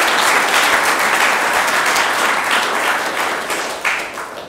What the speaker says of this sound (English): So I would like to give a round of applause to all the volunteers of all types.